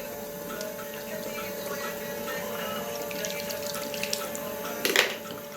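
Tap water running in a sink while a small makeup brush is rinsed, a steady close hiss with a faint hum and a brief louder splash near the end.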